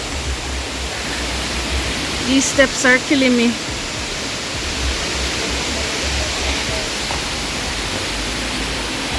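Dunn's River Falls in Jamaica pours as a constant, dense hiss of falling water, loud and unbroken, while someone speaks briefly over it.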